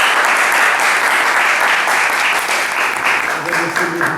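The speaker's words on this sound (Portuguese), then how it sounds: "Vamos bater palmas para eles." A group clapping for the guides after a visit to the Museu da Maré, loud sustained applause from many hands with a voice beginning to speak near the end.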